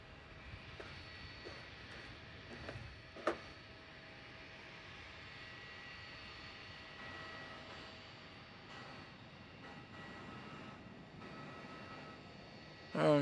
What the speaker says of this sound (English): It's turning onto the runway, Tim. Yep. And going